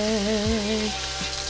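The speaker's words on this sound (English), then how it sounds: "we have our sausage getting nice and browned" Sausage sizzles as it browns in hot olive oil for a seafood gumbo, a steady close frying hiss with a low clunk partway through, no voices.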